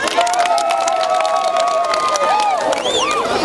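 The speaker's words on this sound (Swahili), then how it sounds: "Situpigie mheshimiwa makofi mazuri." Cheering crowd with scattered clapping welcomes a dignitary at a governor's public gathering, a loud, continuous wash of voices and shouts running throughout.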